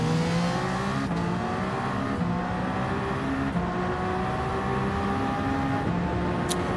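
GT race cars exiting the pit lane at Spa in the video game Gran Turismo 7, several engines droning and revving steadily together, with gear shifts marked by brief pitch drops.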